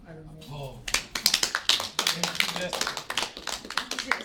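Classmates applaud in a classroom, scattered claps tapping unevenly near the mics for a few seconds after a voice speaks at the start.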